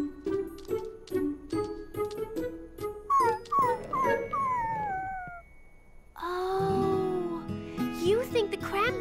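A cartoon puppy whimpers in a run of short, repeated yelps, then lets out rising, drawn-out howls, close and clear with brief pauses between cries.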